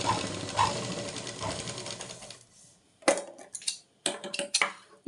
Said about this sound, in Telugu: ఒకసారి మళ్ళీ స్టిచ్ చేసేసుకుందాము, కుట్టేటప్పుడు ఈజీగా ఉండడానికి.